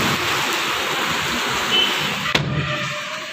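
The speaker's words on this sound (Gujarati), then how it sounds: "વરસાદ તો ચાલુ થઈ" Steady rain pours outside a home, a broad, even hiss with a sharp knock partway through, after which the wash grows slightly quieter.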